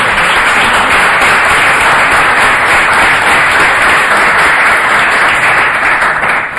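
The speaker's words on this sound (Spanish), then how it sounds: "la recibimos con un fuerte aplauso" Loud, dense applause from an audience at a storytelling event at the UNED, a continuous roar of clapping close by that stays constant from start to finish.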